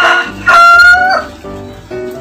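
A rooster crows loudly and close by, a long drawn-out call followed by shorter clucking notes.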